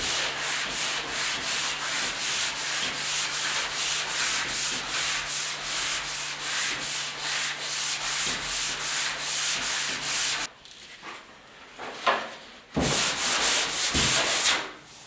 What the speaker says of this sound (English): if you just give it a quick scuff with the 220 like I'm doing and then finish with 320